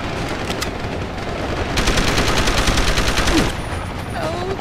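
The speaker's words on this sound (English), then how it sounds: "Stop shooting, Malik!" Sustained rapid gunfire in Deus Ex: Human Revolution, a dense rattling automatic-weapon burst that swells louder midway and then drops back, with a few clicking and whooshing effects near the end, no talking.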